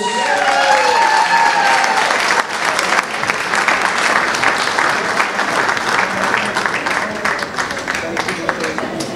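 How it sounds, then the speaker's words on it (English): Loud, sustained crowd applause fills a room at a London Turkish police award and solidarity dinner, continuing steadily throughout with a few voices audible at the start. "Let's give them a big round of applause"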